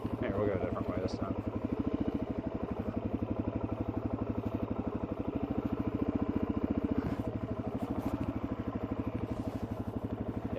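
A motorcycle being ridden along a mountain route, its engine putting out a steady, close, rhythmic thrum that runs throughout with little change.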